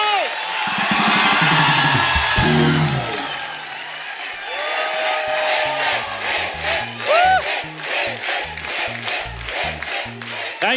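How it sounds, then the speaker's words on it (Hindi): A studio audience on a comedy talk show cheers, whoops and applauds loudly for film star Hrithik Roshan. The noisy crowd roar runs through the whole stretch, with music playing underneath. "एक बार जोरदार तालियां मिस्टर ऋतिक रोशन के लिए"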